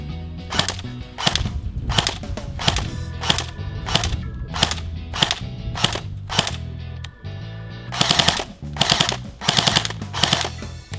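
A braced gun being test-fired sounds off as a long series of loud, sharp shots at a steady, even pace, closing with a quicker cluster of reports near the end.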